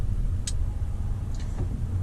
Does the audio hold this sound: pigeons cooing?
no